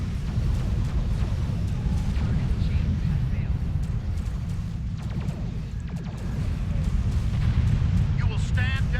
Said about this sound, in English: Okay, we're gonna fire our opening salvo here. Broadside emitters, opening salvo.